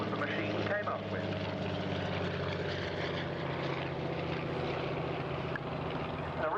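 A Cosmic Wind racing aircraft, a former King's Cup Air Race winner, drones past at the Duxford airshow with a steady, loud propeller engine tone holding throughout. Outdoor crowd ambience sits faintly underneath.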